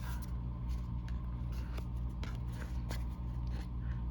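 Scissors snip through cardstock for a handmade birthday card, a quiet series of short crisp cuts and paper rustles close by over a steady low hum.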